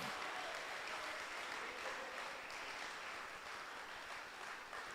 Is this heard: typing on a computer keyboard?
no